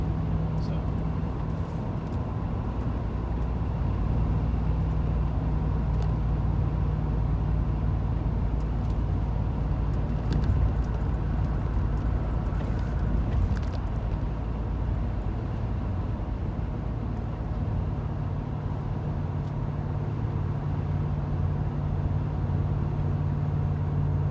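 A 2016 Ram 2500 truck in tow haul mode with 4.10 gears cruises in sixth gear, giving a steady low engine and drivetrain drone with road and tire noise throughout, loud and continuous from inside the cab.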